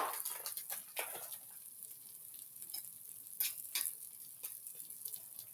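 A chicken quesadilla with cheese frying on a Blackstone griddle at a campsite, giving a quiet, steady sizzle with a few faint scrapes and taps, close by and without speech.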